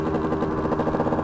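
A Yamaha Aerox 70cc scooter fitted with an old Stage6 MK1 70cc racing cylinder, air filter taped, runs loud and a bit rough, with a close, steady buzzing drone and a slight pulsing wobble.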